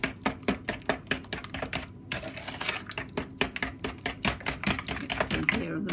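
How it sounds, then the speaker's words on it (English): Egg yolks are beaten by hand into cake batter for a 1950s prune traybake, making rapid, rhythmic, close tapping and slapping strokes that continue steadily. "mix in here, and the more you mix it, the more it'll come together nicely."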